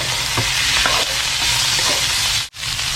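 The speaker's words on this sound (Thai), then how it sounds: "เราก็ลงเป็นหมูบดเลยท่านผู้ชม ครับเอาผัดซ้ำไปเลยครับ" Minced pork hits hot oil in a wok with a loud, continuous sizzle and hiss, stirred briskly close up, with a brief drop-out near the end before the frying resumes.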